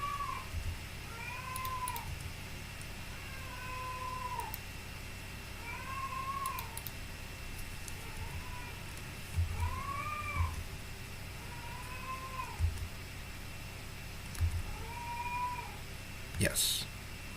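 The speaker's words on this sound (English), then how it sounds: "That is a cat." A cat that was once injured gives a series of repeated meows, about eight in a row and evenly spaced, sounding fairly close over a steady mechanical hum during Minecraft IC2 steam-machine play.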